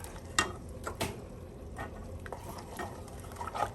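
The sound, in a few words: stirring macaroni and cheese in a pot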